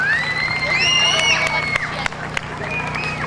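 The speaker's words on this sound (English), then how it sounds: "Let's give them a round of applause." A crowd at a police community night out against crime cheers and claps. High-pitched shouts and whoops from children and adults rise over a steady bed of applause, busy and fairly loud throughout.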